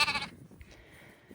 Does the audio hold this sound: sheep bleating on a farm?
yes